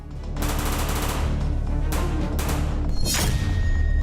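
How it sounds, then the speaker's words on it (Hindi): Loud, rapid gunfire, used as a sound effect in a news report, rattles in dense, continuous bursts for about four seconds with booming low-end weight and sharp repeated cracks. "दिन दहाड़े चली गोलियां"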